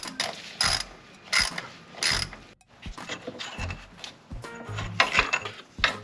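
A hand ratchet with a 12 mm socket works loose the AC compressor bolts on a 1992-95 Honda Civic during engine removal, giving repeated quick bursts of sharp pawl clicking, close and loud, with brief gaps between strokes.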